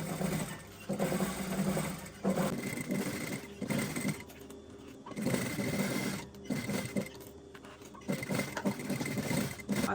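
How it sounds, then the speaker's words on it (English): A sewing machine stitches a pinned fabric snap bag in steady whirring bursts separated by short pauses, close and moderately loud, with no voices. "I've machined along that bit where we pinned."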